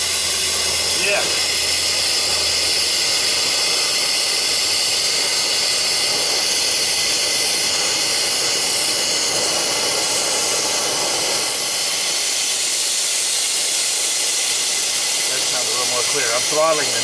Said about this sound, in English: Throttling the nitrogen.